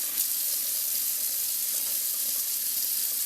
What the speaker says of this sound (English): We're going to fill the water up to the fill line.